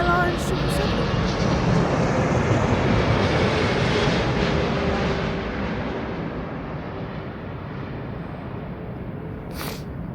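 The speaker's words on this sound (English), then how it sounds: "this is a American Airlines 777" An American Airlines Boeing 777 roars past at Heathrow, a loud broad jet rumble that holds steady for several seconds and then slowly fades as it moves away.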